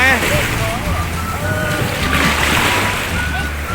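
Sea waves surge and slosh in a loud, continuous wash with wind noise, while excited voices talk over the water close by.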